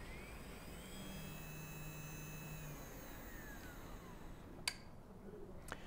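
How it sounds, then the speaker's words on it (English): A Siemens S6 drive runs an electric motor through its identification routine, giving a steady whirring hum with rising and falling tonal whines, and two short sharp clicks near the end. "now the motor will do its identification through the S6 drive"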